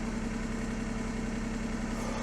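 A Honda Beat's small three-cylinder engine runs on a rolling road dyno, giving a dense, continuous, loud drone with a steady low hum throughout and no voices.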